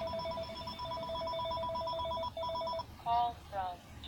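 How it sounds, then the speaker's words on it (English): A telephone rings in a home with repeated electronic bell-like trills, a steady pattern of tones running for nearly three seconds before stopping, followed by brief higher chirps of the ringtone. "Of course, the phone rings."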